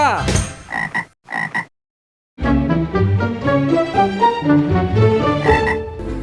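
A frog croaks in a few short, loud bursts with brief gaps between them, then a tuneful musical passage follows.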